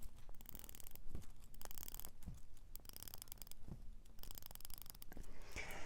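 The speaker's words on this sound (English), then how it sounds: "The bezel action, let me see if I'll let you hear" The bezel of an Islander 38 Watermelon ISL-126 dive watch turns, giving a close, quiet series of crisp, evenly spaced ratcheting clicks, heard on its own.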